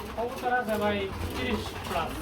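Soft, low coos of running pigeons repeat close by, blending with a murmur of nearby voices.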